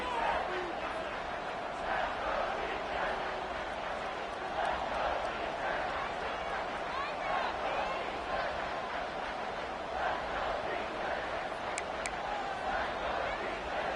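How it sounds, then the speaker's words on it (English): Football stadium crowd at a college game between North Texas and Southern Mississippi, roaring steadily through a big third-down defensive stand, a dense sustained wall of cheering and shouting that holds at an even level throughout. "The crowd elevating its energy, willing this defense to get a stop on this big third down."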